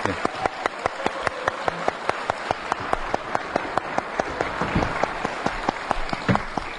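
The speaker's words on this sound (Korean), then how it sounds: "큰 박수로 맞이하겠습니다." Audience applause welcoming a guest onto a political talk show stage, loud crowd clapping with distinct sharp claps throughout, a voice talking over it.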